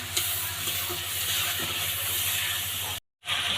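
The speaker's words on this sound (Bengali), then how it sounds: "এবারে দিয়ে দিচ্ছি একটু জল দিয়ে এবার আর একটু ভালো করে কষিয়ে নেব, যাতে মশলাটা পুড়ে না যায়" Spice paste loosened with a little water is stir-fried in a pan for an egg curry, giving a steady close hiss and sizzle with faint scraping. It cuts out briefly near the end, then resumes.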